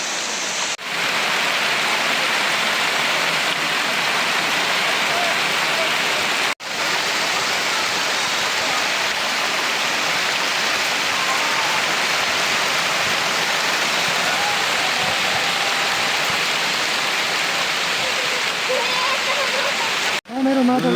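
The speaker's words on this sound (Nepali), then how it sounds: "यसरी आज भवानी थानको यो मेलामा पानी परेको छ" Heavy rain falls at the Bhawani Than fair on Baishakh Purnima, a loud unbroken roar of water hitting the ground. Faint voices sit beneath it, and the sound cuts out briefly a few times.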